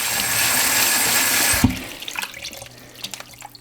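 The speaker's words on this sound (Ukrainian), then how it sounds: "Спочатку їх треба помити. Бруду на грибах небагато." Running tap water pours steadily over summer honey mushrooms being washed in a kitchen sink, a loud hiss that cuts off abruptly after about a second and a half, followed by quiet drips and wet handling sounds.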